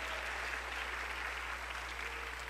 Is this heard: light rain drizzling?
no